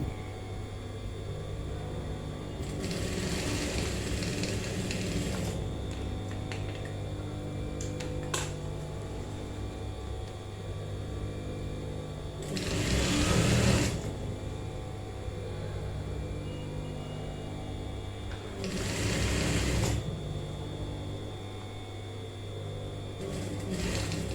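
A sewing machine stitches kurta fabric in three separate bursts of steady whirring, each lasting a second or two, with quiet room hiss in between.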